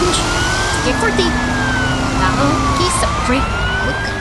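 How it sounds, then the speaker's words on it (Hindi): Wailing emergency sirens rise and fall continuously over a loud, dense wash of traffic and street noise, with voices faintly mixed in. "सायरन की गूंज"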